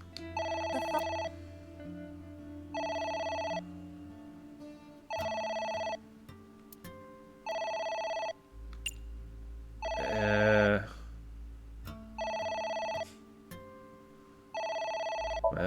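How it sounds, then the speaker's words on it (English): A telephone rings in the adventure game A.I.: The Somnium Files, its electronic bell sounding in regular bursts of about one second with short gaps, over quiet game music, and one brief noisy burst interrupts the pattern. "The phone..."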